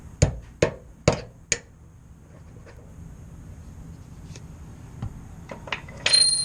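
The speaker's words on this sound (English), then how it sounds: "Take a punch, put it on the center there, and just pop it right through." A hammer strikes a punch four times in quick succession to pop out a rivet, each blow a sharp close knock. A few faint taps and rustles follow in otherwise quiet surroundings.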